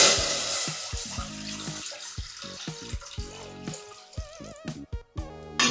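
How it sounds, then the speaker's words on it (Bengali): Water pours steadily into a steamer set on a gas stove in a kitchen, a bright, bubbling splash that rises and wavers in pitch as the pot fills, heard alone and close. "তাতে জল দিয়ে দিচ্ছি।"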